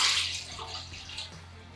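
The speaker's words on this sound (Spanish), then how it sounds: "Incorporamos el agua." Water poured into a pot of Spanish mayonnaise soup, a soft continuous splashing and trickling that is fairly close and steady for under two seconds, fading slightly toward the end, with no talking.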